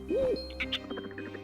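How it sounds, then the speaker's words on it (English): A cartoonish owl hoot from the video game Donkey Kong 64, one sliding tonal call followed by chirpy, bouncy game sound effects over a soft musical backdrop. "We get an owl."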